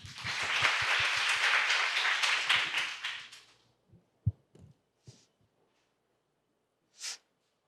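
Audience applause at a Korean national competition performance, a loud dense burst of many clapping hands for about three and a half seconds, then fading to a few scattered claps and isolated thumps in near silence.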